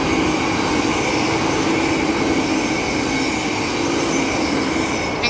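An EMU commuter train passes on Eddystone Avenue, a loud, steady rail roar with wheel rumble and faint squeal, close by, with no speech.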